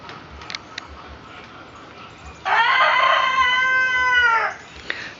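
A Black Australorp rooster crows once, a loud, close, drawn-out cock-a-doodle-doo lasting about two seconds, with brief clucks and rustling around it.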